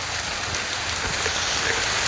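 Steady rain falls on a corn field, a dense, loud, even hiss of drops landing on leaves and ground throughout, with no talking.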